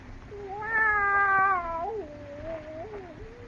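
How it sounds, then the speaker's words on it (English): A cat meows in a long, drawn-out wail that rises and falls, loud and close, inside a quiet house in a Halloween horror radio drama. "That cat."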